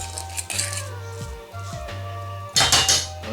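A spoon scrapes and clanks against a pot while rice is stirred into a Jamaican-style vegetable chilli stew with peas, several separate metallic knocks and scrapes, close and fairly loud.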